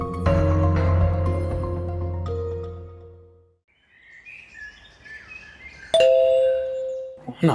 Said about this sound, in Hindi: बस तो घंटियां बजाते रहते हैं।